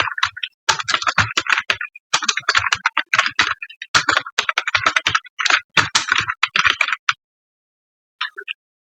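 Rapid clatter of typing on a computer keyboard, dense bursts of sharp key clicks separated by short silences, close and fairly loud, with a few isolated taps near the end and no voices.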